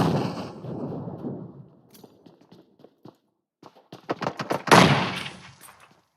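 A grenade going off in a multiplayer video game: a sharp, loud blast near the end following scattered clicks and smaller impacts, after a noisy rumbling opening.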